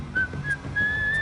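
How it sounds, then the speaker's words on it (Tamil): A person whistles a few clear, thin notes, a short chirp followed by a longer sustained tone that slides slightly, heard close and alone over faint background hiss. "விசில் அடிக்கிற, நிறுத்துறண்டவன் வண்டிய."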